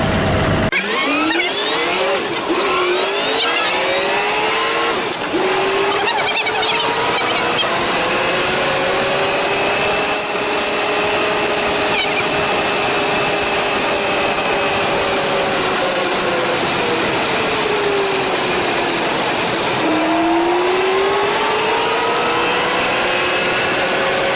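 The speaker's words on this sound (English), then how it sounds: "I ain't getting any work done driving around in my Elcar." 1927 Elcar antique car driving at around 45 miles an hour, a loud continuous engine drone whose pitch rises and falls as it accelerates and shifts, with no talking.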